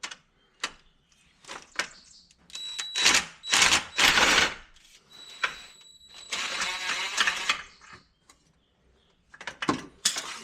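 Bolts are worked loose from a 1995 Chevrolet Blazer engine, with sharp metallic clicks and clatters, a few bursts of rapid ratcheting and scraping, and quiet gaps between them, heard close and without speech.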